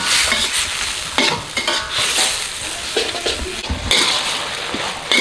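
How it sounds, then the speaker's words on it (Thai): Glass noodles with canned fish stir-fried over medium-low heat, a loud close sizzle with continuous scraping and tossing strokes against the pan, no talking. "ผัดไปเรื่อยๆนะครับ จนกว่าเส้นเขาจะแห้งนะครับเนี่ย"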